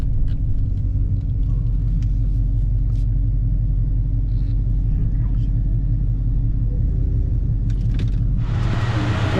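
Dodge Charger R/T engine idling at a car wash, a loud continuous low rumble throughout with a harsher burst of exhaust noise near the end; no distinct crackles stand out.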